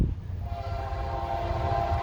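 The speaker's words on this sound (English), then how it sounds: "Well, lo and behold, we got a train coming." A fast southbound Norfolk Southern intermodal train passes with a heavy diesel rumble, a steady drone and a rhythmic low clatter of wheels, loud and continuous.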